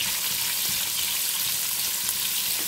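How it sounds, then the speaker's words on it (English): Ginger and white onions sauté in a pan with a constant close sizzle and faint scattered crackles, steady and without speech. "the white onions, and we're gonna saute this"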